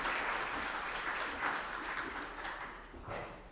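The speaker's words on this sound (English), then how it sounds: "I would like to give this lady a warm applause" A plenary session audience at a global strategy governance meeting gives warm applause, a dense, even wash of clapping heard from within the hall, holding steady for several seconds with no voices over it.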